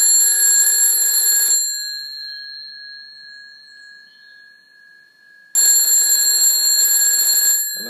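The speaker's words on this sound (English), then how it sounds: "And that's the how it rings in America. It's a US ring." A WW2 field telephone wired as a doorbell rings in an American cadence: a loud, bright electric bell trill sounds for about a second and a half, falls silent for several seconds while a faint tone lingers, then rings again.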